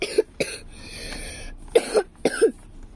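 Several harsh, close coughs in quick bursts aboard a ferry, with short pauses between them and no speech.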